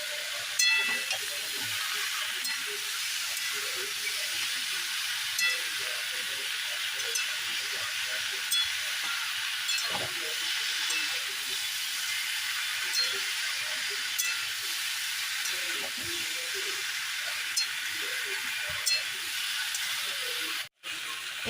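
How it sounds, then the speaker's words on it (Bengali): Mixed vegetables for a five-vegetable curry are sautéed in a pan, giving a soft, continuous sizzle and hiss with light stirring scrapes, heard close and alone with no talking. "তো এই যে আমি খুব ভালোভাবে কষিয়ে নিচ্ছি।"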